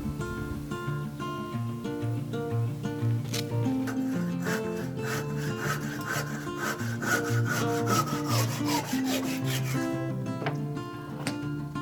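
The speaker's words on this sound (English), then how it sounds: "He's gonna use this cool Japanese handsaw." A Japanese handsaw cuts timber pegs during a cottage timber-frame assembly, producing a fast, even series of rasping wood strokes close by, with no talking.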